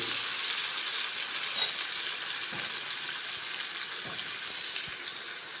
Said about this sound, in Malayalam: നല്ലെണ്ണ നല്ലെണ്ണയിലാന്ന് വറുത്തെടുക്കുന്നത് അതെണ്ണ എടുത്തിട്ട് വെച്ചിട്ട് നമുക്ക് കുറേയൊക്കെ വറുത്തെടുക്കാം